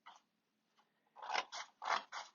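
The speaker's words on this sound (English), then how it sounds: "You want to find yourself a nice area of cardboard and go on in with a pair of scissors like these and make some cuts." A pair of scissors snips through cardboard in a quiet room, a faint first cut followed by four loud, crisp crunching snips in quick succession.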